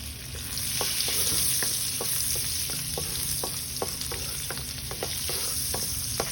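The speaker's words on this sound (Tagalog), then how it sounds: "so we're gonna saute the garlic." Garlic sautés in a hot pan with a steady, close sizzle, punctuated by regular light taps and scrapes of a utensil stirring, and no voices.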